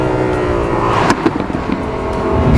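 A Lamborghini Huracan four-wheel-drive supercar accelerates hard, its engine a loud, rising roar with sharp crackles and pops mid-run before the note climbs again, heard close from inside.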